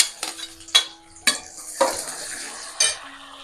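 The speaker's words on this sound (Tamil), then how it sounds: "தக்காளி லைட்டாக வதங்கட்டும்." Tomato with onion and curry leaves sautés in a pan for a millet sambar rice, giving a steady sizzle broken by several sharp, close scrapes and clinks of a spoon stirring against the metal.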